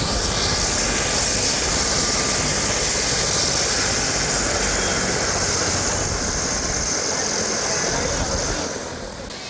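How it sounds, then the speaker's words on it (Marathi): Helicopter on the ground after an emergency landing in a village near Lonavala, giving a loud, steady broadband engine and rotor roar that holds throughout and eases slightly at the end. "लोणावळा सालतर गावामध्ये हेलिकॉप्टरचं इमर्जन्सी लँडिंग या ठिकाणी करण्यात आलेलं आहे"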